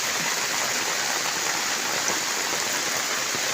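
Nonstop rain falls in a continuous, unbroken hiss, close and even throughout, with no voices or other sounds standing out.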